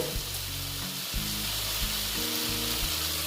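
Potato, pointed gourd and soybean curry frying gently in a pan, giving a soft, continuous sizzle with low hum and a few faint knocks, close up and fairly quiet.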